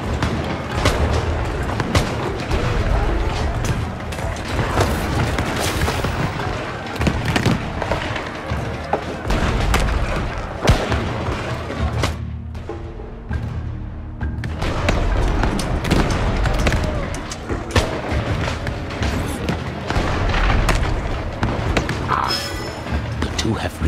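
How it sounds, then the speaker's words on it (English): Cannon fire in the video game Shadow Tactics booms and thuds repeatedly through a dense, loud mix of battle noise, with game voices heard during the fighting. "Watch for cannon fire."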